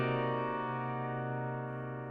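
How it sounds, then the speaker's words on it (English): A sustained half-diminished ninth chord on a keyboard, held steadily and slowly fading over about two seconds, clear and alone. "So the half diminished 9 chord sounds something like this."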